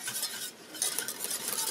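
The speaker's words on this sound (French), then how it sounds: "vous rajoutez tout votre lait et vous n'avez plus qu'à mélanger en fait, tout simplement comme ça" A spoon or whisk stirring milk into thickening béchamel in a pan, with soft repeated scraping and clinking against the metal, close and moderately quiet, with no talking.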